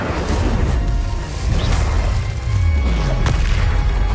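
Incendio fire spell cast in the Hogwarts Legacy video game, a loud whooshing blast with booming low rumble and crackling bursts that fill the whole clip with dense, continuous effects.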